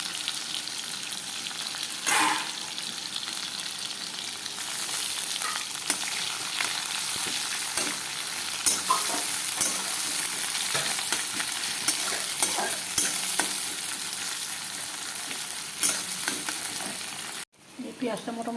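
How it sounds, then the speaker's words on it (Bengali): Chopped onion frying in a pan makes a steady, close sizzle with occasional stirring scrapes, broken by a brief drop near the end. "পেঁয়াজটা মোটামুটি ভাজা হয়ে গেছে আমার।"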